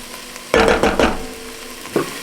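Soup ingredients cook in a pan for creamy white lasagna soup, with loud, close bursts of sizzling and scraping stirs over a steady low hiss and a final short clatter.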